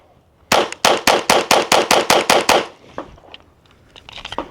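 A SIG Sauer P322 .22 pistol fires Federal rounds at an outdoor range, loosing about ten sharp, loud shots in a fast, even string before falling quiet into faint handling noises.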